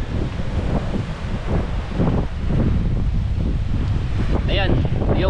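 Loud, steady wind roars across a typhoon-battered beach at a river mouth, with crashing surf underneath, filling the whole stretch without a break.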